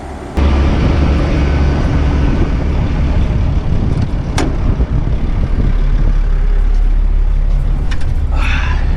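Heavy haul truck pulling away from a parked spot by a fence, a loud, deep diesel rumble that kicks in abruptly and holds steady with a few sharp clicks and hisses near the end, no speech.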